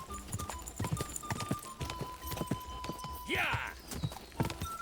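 Horse galloping in Kingdom Come: Deliverance II, rapid rhythmic hoofbeats thudding steadily throughout, with a whinny partway and someone shouting over it.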